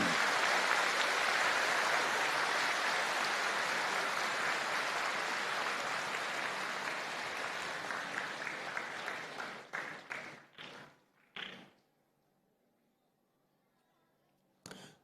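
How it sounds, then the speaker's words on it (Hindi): An audience at a religious gathering claps loudly and steadily for several seconds, the dense applause thinning into scattered claps before stopping, followed by near silence and one brief final burst. "तो सभी लोग अपने अपने पितरों के लिए एक बार जोरदार तालियां बजा दें।"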